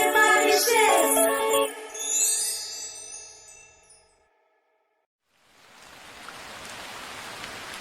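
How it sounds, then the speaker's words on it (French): Rain falls in a children's animated series, a soft, even hiss that fades in after a burst of music and a moment of silence, then holds steady. "Oh là là, la pluie!"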